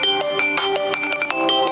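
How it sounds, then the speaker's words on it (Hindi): A phone ringtone made for the name Radhe plays on its own, a bright electronic melody of short repeated tonal notes in a steady, lively rhythm, close and clear. "इस तरह से रिंगटोन खुल के आ जाएंगी।"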